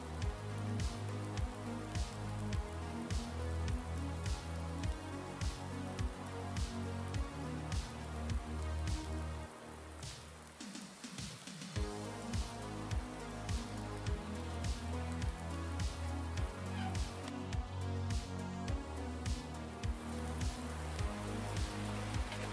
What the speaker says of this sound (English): How's that big shed there stopping the rain?